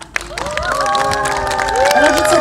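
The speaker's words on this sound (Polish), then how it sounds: "Jeszcze raz ogromne brawa!" Crowd cheering and clapping at an outdoor school performance during a picnic, with children's high-pitched shouts and whoops rising over a steady bed of applause.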